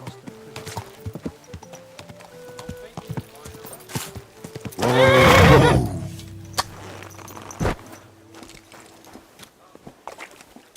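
A horse in Kingdom Come: Deliverance II gives one loud, shuddering neigh at close range, set among slow clip-clopping hooves, footsteps and scattered thuds, with a voice talking before it.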